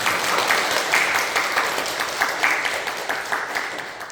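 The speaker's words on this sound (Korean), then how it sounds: "따뜻하게 박수로 환영해 주십시오" Congregation at a Korean Sunday worship service applauding to welcome a newcomer, a full, steady patter of many hands at moderate volume that eases off slightly toward the end.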